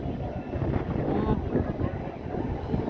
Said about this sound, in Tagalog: Mahangin na. Mahangin.